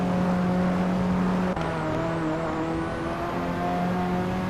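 A toy-style race car engine in a Hot Wheels video game hums with a steady, high-pitched drone, shifting pitch slightly mid-way as it accelerates, loud and continuous.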